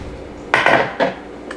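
A large Brazilian knife chops the ends off limes on a board, giving two or three sharp, close knocks in quick succession with no talk.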